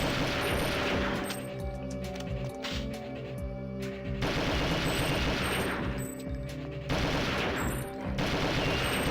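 Sustained automatic gunfire from the AR-34 assault rifle in the Perfect Dark video game, loud and dense, with repeated bursts running through the whole stretch and brief lulls between volleys.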